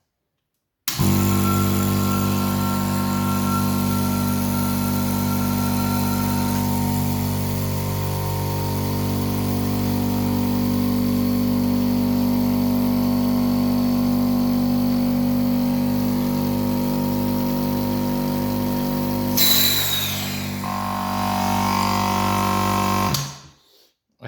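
Vacuum pump of a milking machine, fitted with a condensate collector, regulator, gauge and thermal relay, running: a continuous loud mechanical hum and drone with low pulsing rumble, close by, shifting in tone near the end before stopping.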